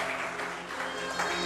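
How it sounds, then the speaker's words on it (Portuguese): Church congregation clapping steadily at a worship service, a dense, continuous wash of applause filling the room for a brief moment. "Aplauda o Senhor por essa palavra."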